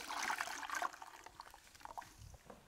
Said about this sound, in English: Wet your sponge down again,